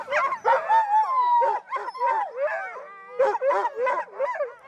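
Yukon sled dogs yip, whimper and bark in a rapid excited series of high whiny cries and short barks, close and fairly loud, with no talk.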